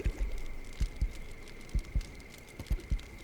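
Low-health heartbeat warning in a video game, with paired thumping beats repeating at a steady, slightly slow rhythm over a faint steady hum and background noise.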